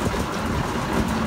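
An antique 110 horse steam traction engine rolls past in a parade, giving a dense, rumbling, rattling churn with a low hum. It is loud and close, and no voices are heard over it.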